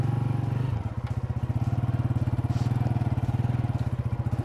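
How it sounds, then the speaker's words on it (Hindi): Motorcycle engine running on a roadside at dusk during a camping trip, a steady close throbbing putter with a fast even pulse that briefly dips in pitch early on, then holds a loud chugging rhythm. "दो बाइक लेकर आए हैं हम,"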